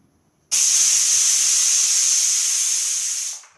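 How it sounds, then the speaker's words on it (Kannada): A pressure cooker whistle releases steam while egg biryani cooks at home: a loud, steady hiss starts abruptly, holds for about three seconds and then fades out, with no voices. "ನೋಡಿ ವಿಸಿಲ್ ಹೋಗಿದೆ."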